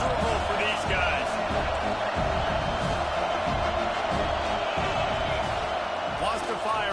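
Stadium crowd in the Madden 25 football game: a broad steady roar of many voices under continuous commentary, with occasional thuds.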